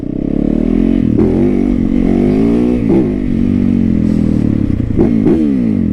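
A motorcycle engine revs hard and close with a deep, steady throbbing drone. It blips up sharply a few times over the sustained roar, outdoors on a road in Ohio.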